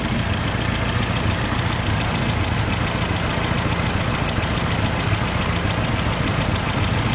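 A 1923 Ford Model T Touring engine idles steadily up close with the engine compartment open, a loud continuous low rumble with a fast, even mechanical chug and no voices.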